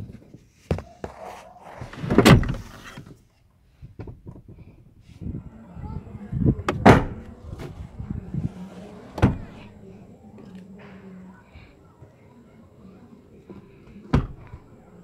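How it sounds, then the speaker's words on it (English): A 2017 Toyota Innova 2.8 E automatic has its doors opened and closed several times: clunks, latch clicks and a few sharp slams, with a person talking throughout. "The doors open quite wide in an almost like 90-degree angle, which provides you easy entrance and exit."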